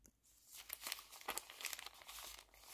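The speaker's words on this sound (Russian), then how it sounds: "Давайте откроем вот этот большой пакетик." Large paper packet being opened, close and quiet crinkling and crumpling with a few tearing rustles in uneven bursts, no voices.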